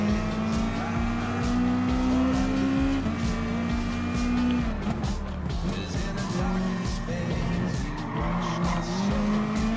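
Race cars in Gran Turismo Sport, including the Atenza Goth race car, roar continuously with shifting engine revs and repeated tire squeals through corners on a school course layout, loud and sustained.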